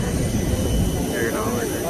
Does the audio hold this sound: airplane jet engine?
yes